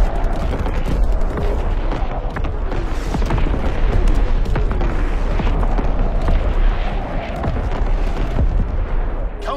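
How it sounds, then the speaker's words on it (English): Primary battery artillery fires in a Call of Duty WWII game, a continuous dense barrage of deep booms and blasts rolling without pause at steady loud level across the whole stretch. "Firing primary battery."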